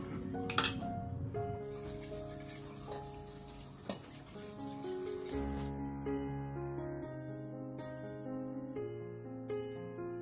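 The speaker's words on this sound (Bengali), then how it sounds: "খাওয়া দাওয়া সেরে বাসন কুসনগুলো সব মেজে নিচ্ছি" Dishes and pots are washed by hand after a meal, with close clinks and clatters of metal utensils and cookware alongside running and splashing water, some ringing tones lingering between knocks.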